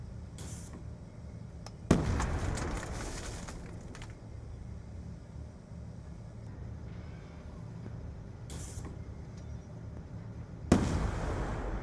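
Call of Duty frag grenades burst in two loud, sharp blasts about nine seconds apart, each trailing into a rumbling decay over steady low game ambience.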